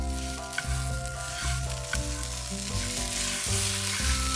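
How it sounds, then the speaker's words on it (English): Ramen noodles sizzle and fry in a hot pan while being stirred with hoisin sauce and sriracha, a steady close crackle with scraping stirs and no talking. "Mix the noodles with the sauces and flavoring very well for about 2 minutes."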